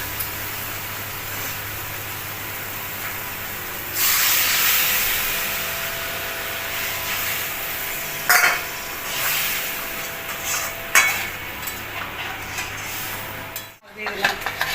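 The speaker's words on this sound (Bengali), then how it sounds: "এবার গরম জল দিয়ে দেবো।" Hot water poured onto frying spices and tomato for a fish curry bursts into a loud, sustained hiss of steam, with occasional utensil clinks and scrapes close by.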